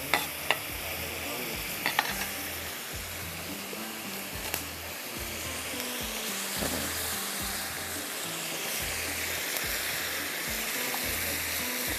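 Slit green chillies going into a frying pan for anda chana biryani, with steady dense sizzling and stirring throughout, a few sharp clinks early on, and no speech.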